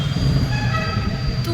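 Metro train at Vijayanagar metro station, a steady low rumble with faint tonal whine, continuous and fairly loud throughout the short span.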